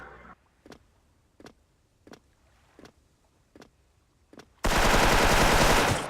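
Gunshots in a video game: six sharp single shots spaced about evenly, each a crisp crack, then a sudden loud, sustained blast of noise filling the last seconds.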